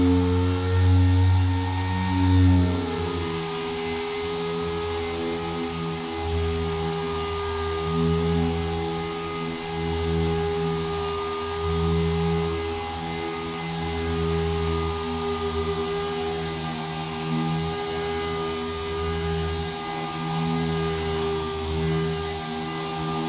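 A dual-action sander working primer on a car door panel, a steady close whirring hum with a constant motor drone and a slight shift in tone near the start, running continuously with no talk.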